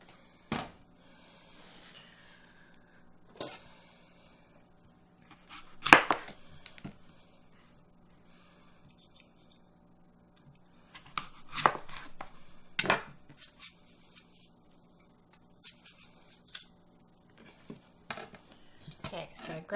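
Knife chopping apples with the skin left on for an apple and walnut salad, scattered crisp cuts and clinks of a blade and dish on a cutting board, close and sparse with quiet gaps.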